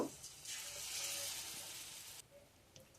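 Raw banana pieces frying in hot oil give a steady, close sizzle with a soft wash of bubbling, the crackle easing off toward the end.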